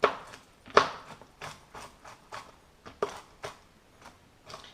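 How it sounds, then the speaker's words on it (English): A knife chops whole nuts coarsely on a board for granola, giving a series of irregular crisp taps and thuds at close range, with no voices over them. "that's a nice coarse chop on the nuts"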